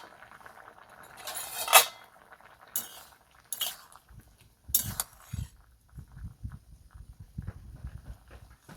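A lid being taken off a pot of jackfruit kofta curry: a few sharp metallic clinks and rattles, then softer knocks and shuffling handling sounds close by.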